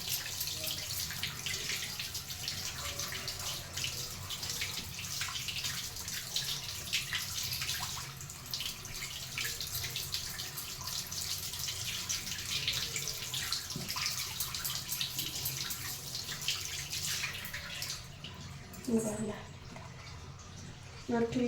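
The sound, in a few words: washing meat under running tap water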